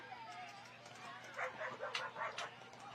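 Several dogs bark and yip in short bursts at a moderate distance, heard during a roller derby bout amid crowd noise and a commentator's voice.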